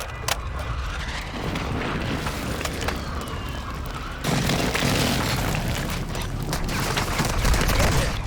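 An artillery strike in Call of Duty: Warzone 2.0 rumbles and booms continuously as a dense, roaring barrage with heavy low rumble that swells louder midway and stays sustained to the end.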